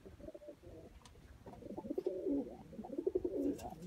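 Sialkoti pigeon cooing in soft, repeated low rolling phrases, fairly close, with a light background murmur and no talk.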